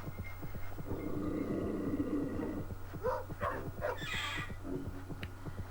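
A dog in the Chicken Run PlayStation game gives a run of barks, rising loud over a steady low electronic hum and rhythmic thumping game sounds.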